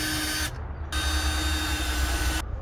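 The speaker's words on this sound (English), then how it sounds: "I'll pre-drill some holes" A power drill bores pilot holes for a DIY pull-up bar, running in two steady whirring bursts separated by a brief pause.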